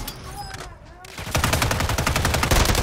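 Video game gunfight with a brief quieter stretch carrying faint speech, then a loud, continuous stream of rapid automatic gunshots that carries on to the end.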